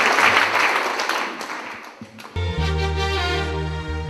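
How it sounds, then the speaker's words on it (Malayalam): A congregation at a Christian worship service claps in praise, a dense burst of applause that fades after about two seconds before sustained keyboard music takes over. "നന്നായി കൈയടിച്ച് മഹത്വപ്പെടുത്തുന്നു"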